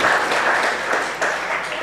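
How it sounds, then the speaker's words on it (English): Lecture audience giving a sustained round of applause at a memorial lecture event, dense steady clapping filling the room for the whole stretch with no voices over it. "let's give them another round of applause"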